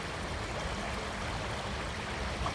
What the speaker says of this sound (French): Avec le petit ruisseau là.